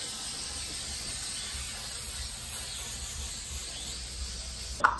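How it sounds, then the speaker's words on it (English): Krylon Easy Tack spray adhesive hisses from an aerosol can onto wood, one continuous close spray lasting several seconds, ending with a brief click, with no talking. "I'm going to spray some on the wood in kind of the general area."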